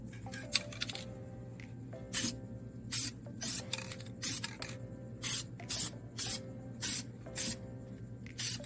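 Short hissing bursts of an aerosol can spray inside the clutch housing of a Suzuki Samurai during clutch reassembly, about a dozen evenly spaced blasts over a steady low hum, fairly quiet.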